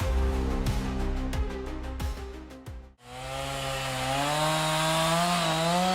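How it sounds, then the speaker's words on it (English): A chainsaw felling a tree in a forest runs loud and continuous, its engine revving with strong harmonic whine, dropping briefly to a pause midway before roaring back at steady high speed. "This man is performing the necessary techniques with a chainsaw to fell this tree."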